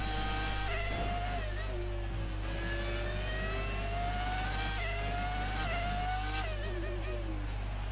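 Formula One race car engine in the F1 2019 video game, during a Monaco-style street circuit lap: a loud, continuous high-pitched whine rising and falling through gear shifts, with no talking.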